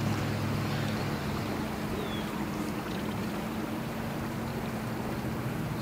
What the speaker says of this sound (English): It's like a Sea-Doo pontoon boat.